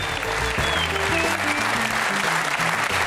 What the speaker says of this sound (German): Der Einsatz, der sorgte hier im Studio für Applaus.